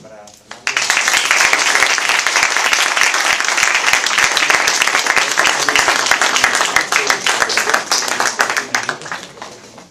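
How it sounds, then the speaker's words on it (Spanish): Sustained applause from an audience at a literary talk at a young writers' gathering, loud and dense clapping beginning abruptly and lasting several seconds before thinning out. "un aplauso"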